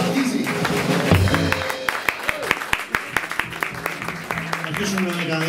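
Audience applause at a live blues concert at Kerameio. It starts as a dense burst of clapping, then thins into scattered sharp claps, with voices talking over it.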